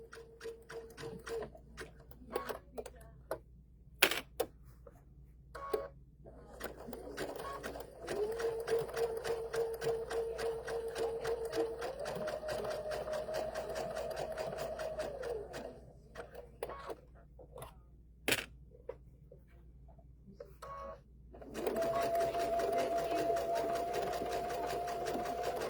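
A sewing machine stitches a holiday rope bowl in short bursts, its whirring motor rising and falling with quick rhythmic needle ticks and brief pauses between runs, fairly close and without talk.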